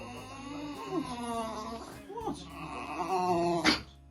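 A dog close by makes drawn-out whining, groaning vocalisations with rising and falling pitch, broken by short growly grumbles and a sharp yip near the end, while a person speaks nearby.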